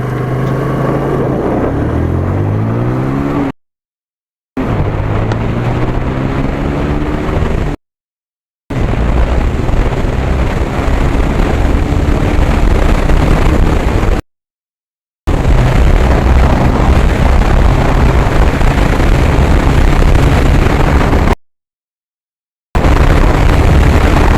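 TVS Apache RTR 160 motorcycle accelerating hard from standstill, loud engine revving climbing in pitch through several gears, with short breaks between gear pulls.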